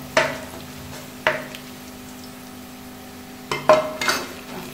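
Nigella seeds, curry leaves and whole spices fry in a pot of chana dal, giving a low steady sizzle broken by a few sharp utensil clinks and scrapes, close and fairly quiet, with no talking.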